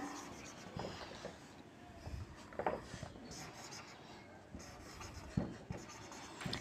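A pen scratches names onto paper during a class activity, soft intermittent strokes close by in a quiet room.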